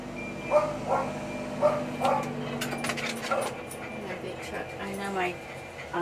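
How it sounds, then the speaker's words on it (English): A dog barks repeatedly at big trucks outside, sharp woofs and yips spaced across the clip, with a truck's reversing beeps in the background and a person talking indoors over it. "he's going to be barking quite a bit"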